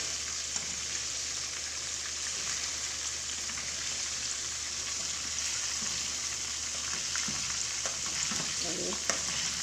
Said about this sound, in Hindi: देखिए जी माशाल्लाह हमारा फ्राई हो रहा है।